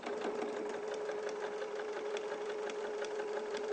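A sewing machine runs steadily, stitching along the open edge of a fabric ear piece at a quick, even pace, a constant close mechanical whir with no pauses.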